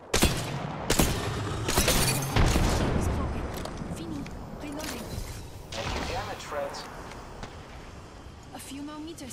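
Combat in Apex Legends with a frag grenade going off amid a burst of loud blasts and gunfire early on, then continued shots and game sounds with voices talking over the action.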